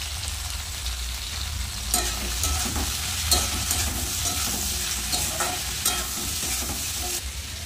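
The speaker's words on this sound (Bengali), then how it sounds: "সবজি কিন্তু প্রায় ভাজা হয়েছে।" Mixed vegetables sizzle in hot oil in a pan for mustard chorchori, a steady crackling fry broken by a few sharper stirring scrapes and spatters, close and without talk.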